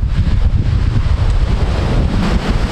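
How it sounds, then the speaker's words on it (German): Strong Bohemian wind gusts roughly and steadily across an exposed microphone, a loud continuous low rumble that buffets without pause and drowns out any other sound. "Ganz schön windig hier."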